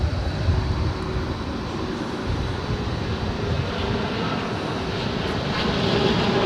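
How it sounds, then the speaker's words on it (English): UPS Boeing 767-300ER jet engines rumbling at DFW airport, a steady broad roar heard from a distance and continuous throughout, with no talk over it. "We've got another UPS 767-300ER coming out as we have the American Dreamliner up next."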